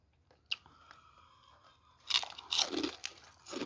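Crispy fried food, eaten with steamed rice, crunches loudly in a few close bites starting midway, followed by chewing, after a quiet stretch of faint background rustle.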